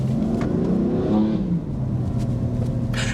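A rebuilt BMW M4 engine revs up and eases off nearby, a deep throaty growl rising in pitch then settling into a steady rumble.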